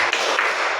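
Hands clap together in a counted classroom rhythm. Two quick, loud, slightly smeared group claps sound close up, one right after the other.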